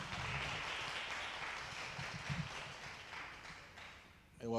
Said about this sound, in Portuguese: Aplauda ao Senhor por essa palavra